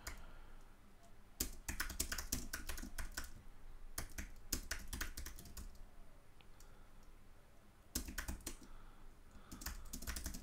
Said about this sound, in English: I'm just going to type this in the chat